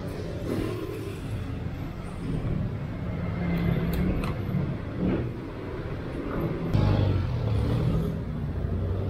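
Motorcycle with a tambuncho exhaust running while riding, a steady close rumble with rising revs and a few louder surges, under road and wind noise.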